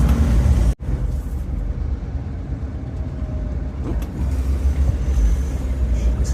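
A VW T4 van driving along, its steady low road and engine rumble heard from inside with a brief sharp dropout near the start and faint knocks later on.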